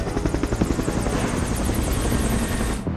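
A Black Hawk military helicopter flies close by, its rotor beating in a fast, steady chop over a dense, loud engine roar that continues unbroken for about three seconds before cutting off.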